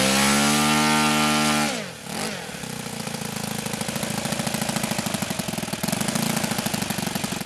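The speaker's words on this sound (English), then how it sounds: "I run the throttle up just a little bit, and I do that just to keep the engine running." An OS FS-91 Surpass four-stroke model airplane engine starts with a rising starter whine, then settles into a steady, rapid buzzing idle with a slight throttle increase, loud and close with no voices.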